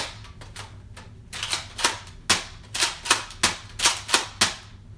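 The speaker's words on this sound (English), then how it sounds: "I know it's just a Nerf gun." A Nerf toy gun fires in a rapid series of about a dozen sharp, close clicking snaps, spaced fairly evenly with a faint hum underneath.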